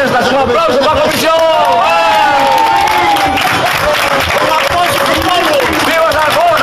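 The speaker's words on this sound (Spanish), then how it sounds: "un aplauso para la Comisión" Loud festival crowd at the San Xurxo celebration in Camariñas applauding the organising commission, dense clapping mixed with cheers, shouts and children's voices, while music or a voice runs faintly underneath.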